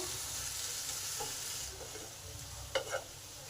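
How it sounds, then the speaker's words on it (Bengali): A chopped tomato stir-fried in a pan for a Bengali pumpkin, drumstick and potato dish, a soft steady sizzle with a couple of brief stirring clinks near the end, quiet and close. "এবার টমেটোটা যতক্ষণ না নরম হয় ততক্ষণ একটু কষে নেব"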